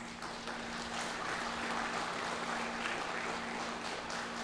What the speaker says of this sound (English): please join me in giving our student leaders a well-deserved round of applause